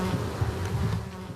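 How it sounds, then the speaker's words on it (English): A swarm of flies buzzes close and continuously, a dense droning hum with shifting pitch, around a smashed school bus near a wrecked bridge in a war-torn town. "The buzz of swarming flies is the only sound bar the terrifying explosions of battle."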